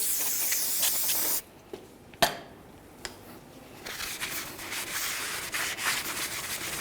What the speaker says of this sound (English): let's clean up the backside of our brake rotor